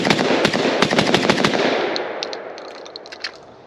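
A Vepr 12 shotgun fires cheap Federal birdshot in a fast, loud string of about a dozen blasts over roughly a second and a half, followed by a few scattered shots and a fading echo.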